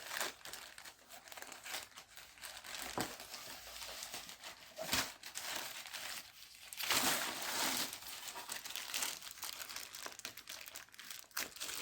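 Someone carefully opens the plastic bag of a parcel containing filament, producing close, continuous crinkling and crumpling with a few sharper rustles as the plastic is handled and pulled apart.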